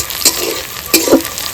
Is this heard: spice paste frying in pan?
yes